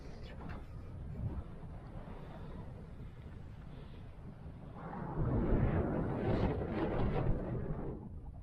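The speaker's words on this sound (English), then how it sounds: "bit windy up here" Wind rumbles and buffets against the microphone in a steady low roar on high ground in the Peak District, growing louder and gustier partway through.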